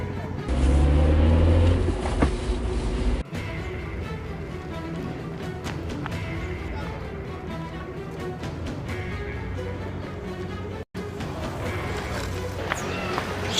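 A motor vehicle approaching along a road, its steady engine rumble and road noise filling the whole stretch, with brief drops in level and people talking over it.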